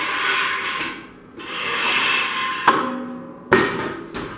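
Clamped metal is bent for a motorcycle top box: long rasping, scraping bursts of effort, broken by two sharp metallic clanks near the end, close and fairly loud with no talking.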